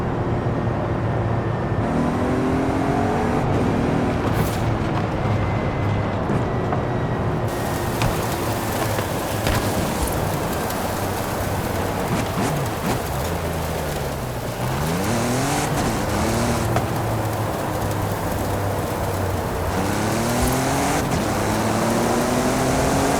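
A Jeep in Forza Horizon 5 drives deep into a dust storm, its engine droning loud and close while shifting pitch through gear changes, with swooping tire squeals and rushing wind filling the background.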